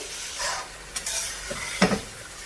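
Tomatoes go into a pan of spices already frying, setting off a close, soft sizzle with several spoon scrapes and a brief clink of utensil against the pan, no talking.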